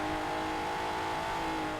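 A Vauxhall fitted with a twin-turbo V6 drones loudly and steadily at high revs in Forza Horizon 4, a sustained engine tone with no talk over it.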